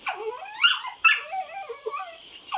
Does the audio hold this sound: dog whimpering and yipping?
yes